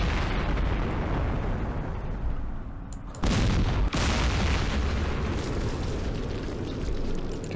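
Artillery fire in the wargame Campaign Series Middle East, a dense, continuous rumble of explosions and booms with sharp bursts. It is loud throughout, with a brief dip followed by a heavy blast midway.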